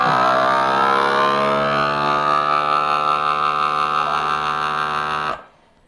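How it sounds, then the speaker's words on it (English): A vacuum sealer pumps the air out of a bag of cold-smoked cheese: a steady, loud, whining motor tone with a slowly shifting pitch, running continuously for about five seconds before cutting off abruptly. "Throw it on the sealer here. And we're going to do a vac seal. Get all the air out of there."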